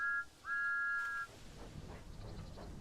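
Steam engine whistle of Thomas in Train Sim World 5, sounding two clear blasts: a short toot followed by a longer held one, loud and close, then fading into rumbling engine and ambient railway noise.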